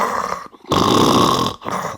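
A voice imitates loud snoring in a joke about a husband snoring in bed at night: a short snort, a pause, then a long rasping snore and a briefer one after it.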